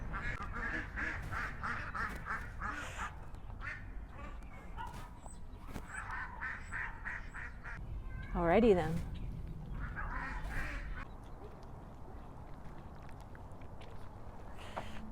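Ducks quacking in short bursts in the background while kids and dogs are around, mixed with steady speech from a person talking nearby throughout.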